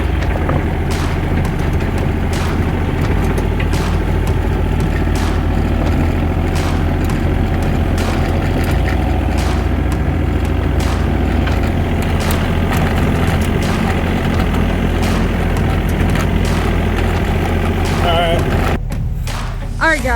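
A mini excavator on rough mountain land rumbles steadily at idle, a loud, close diesel drone running without a break, with occasional knocks and thumps on top and a brief clunk near the end.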